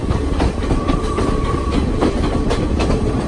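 A passenger train rolls along the tracks in Sri Lanka, heard loud and close from an open door as a steady rumble with rhythmic clickety-clack from the wheels.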